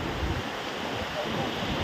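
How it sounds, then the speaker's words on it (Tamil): Water runs steadily at the Adavi Nainar reservoir near Tenkasi, a continuous broadband rushing wash heard outdoors with some wind noise. "தண்ணி ஓடுற சத்தம் எல்லாம் கேட்கவே ரொம்ப சூப்பராக இருக்குது"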